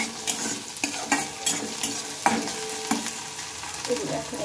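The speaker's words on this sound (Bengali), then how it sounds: "তো দেখো, এখন এগুলোকে একটু ভেজে নেব।" Food fries in a pan as a spatula stirs it repeatedly, giving irregular scraping clacks over a low, continuous sizzle, close and fairly loud throughout.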